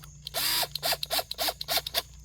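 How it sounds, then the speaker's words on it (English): A cordless drill fitted with a Phillips bit drives a screw into a boat gunnel to mount a thru-hull rod tie-down, heard as one longer whir and then several short, sharp bursts of the motor, close and loud. "putting in your Phillips bit onto your drill"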